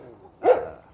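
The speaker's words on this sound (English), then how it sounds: "not German Shepherds barking down my ear" A single short German Shepherd bark, fairly close, standing out against quiet background noise.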